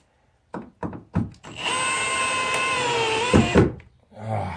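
A power drill driving a screw at an angle into wood blocking for a shed loft floor: a few short trigger bursts, then a sustained close whirring run that bogs slightly as the screw tightens, followed by brief clicks.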